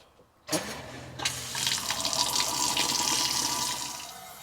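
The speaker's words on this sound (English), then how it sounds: "we have running water" Water gushes steadily from a tap once a pump is switched on, a sudden start after a brief click, then a continuous rushing splash into a sink that stays loud and close throughout.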